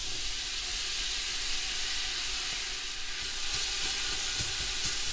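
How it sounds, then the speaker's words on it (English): Onions frying in about half a cup of olive oil in a pot make a soft, continuous sizzling hiss with scattered small crackles, fairly quiet and steady throughout. "we're going to add the onions and fry those"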